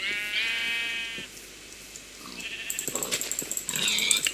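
Sheep in the video game Minecraft bleat in a short wavering cry, followed by a second fainter bleat and rapid clicking game sounds, close and moderately loud.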